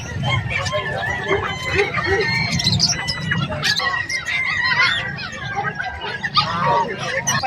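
A flock of geese at a pet market in Bocaue honks and cackles continuously, with chirpy birdlike calls layered over a low rumble and occasional voices nearby.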